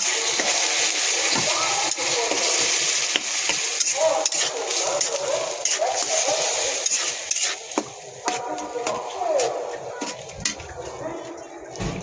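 Chopped tomato frying in oil for a potol egg bhuna, a dense hissing sizzle with spoon scrapes and clinks against the pan as it is stirred, with speech over it.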